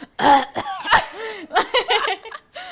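A person coughs several times in quick, harsh bursts, mixed with what sounds like breathy laughter, close and fairly loud.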